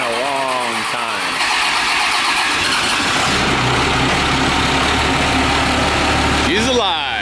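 A long-dormant Plymouth Cuda V8 cranks and catches, settling into a loud, steady, rumbling idle up close, with voices talking over it.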